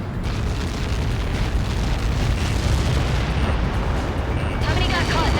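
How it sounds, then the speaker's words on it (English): A missile's massive impact explosion in the Ace Combat 7 video game roars as a loud, sustained rumbling blast that fills the whole stretch with dense low-end noise. "How many got caught in that explosion?"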